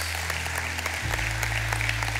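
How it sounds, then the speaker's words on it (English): Church congregation applause during a sermon, a dense continuous clatter of many hands, with a low sustained organ or keyboard tone shifting pitch partway through beneath it. "Can we give God a round of applause?"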